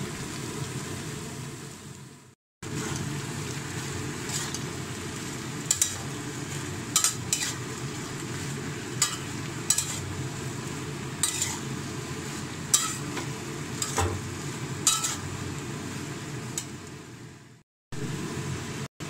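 Sliced ridge gourd and potatoes fry in a pan with five-spice seeds, a steady sizzle running throughout while a utensil scrapes and clinks against the metal in sharp, irregular strokes.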